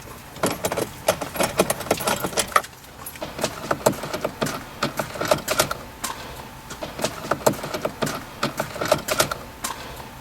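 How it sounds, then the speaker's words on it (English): A 2016-or-later Honda Civic head unit is pried from the dashboard, its plastic retaining clips letting go in a close, irregular run of sharp clicks, snaps and light rattles. "we have to very carefully pull on the head unit to undo 1, 2, 3, 4,"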